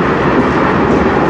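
A CN freight train with a distributed power unit rolls past at close range, a loud, steady roar of wheels and cars filling the air without a break.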